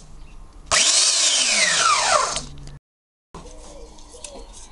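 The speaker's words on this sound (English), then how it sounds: "Sander, upside down in a vise." A power sander mounted upside down in a vise works on the handle of a survival knife, a loud steady whine that rises and falls for about two seconds before dropping away, followed by quieter handling noise.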